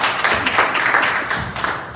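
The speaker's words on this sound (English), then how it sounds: "big round of applause for Tasha, everyone." Audience applause for a volunteer at a marketing bootcamp event, a dense spread of clapping from a room of people, steady and moderately loud for the whole stretch before tapering slightly at the end.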